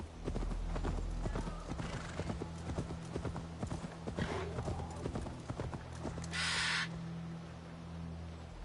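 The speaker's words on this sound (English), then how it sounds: "my horse be coming in out of nowhere" A horse gallops in Assassin's Creed Valhalla with rapid, rhythmic clip-clop hoofbeats, over a low game hum and crow caws, plus a brief bright whoosh partway through.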